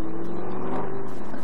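A Lamborghini Gallardo supercar accelerating on a track during a driving experience, with a loud, steady engine roar heard close up and from inside, without talk.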